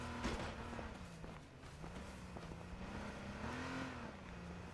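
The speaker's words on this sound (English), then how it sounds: "I hear a vehicle." Vehicle engine approaching in H1Z1 battle royale on PS4, a faint low hum that rises and falls in pitch under quiet outdoor ambience.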